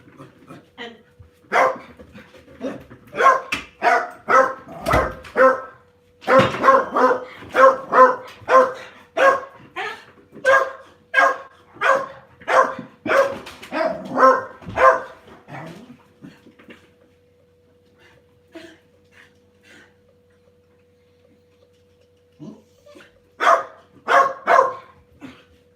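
Dogs bark repeatedly in long rapid bursts, loud and close, then fall quiet for several seconds before another short run of barking.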